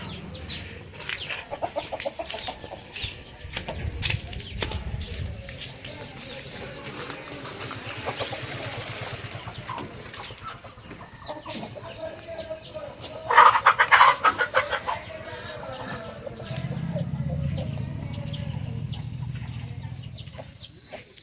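Rasangi breed hens clucking close by in short, uneven bursts over a steady farmyard background, with a louder flurry of calls partway through.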